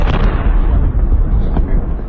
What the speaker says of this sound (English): An explosion and gunfire could be heard coming from the Turkish aerospace industry's headquarters near the capital city of Ankara Wednesday